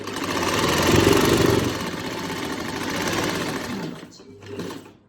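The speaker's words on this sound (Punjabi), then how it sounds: "ਸਲਾਈ ਸ਼ੁਰੂ ਕਰਾਂਗੇ ਸੈਂਟਰ ਚੋਂ" An electric sewing machine stitches a lined kameez shirt, running in a steady, close, whirring drone that slows and stops, then gives a brief final burst.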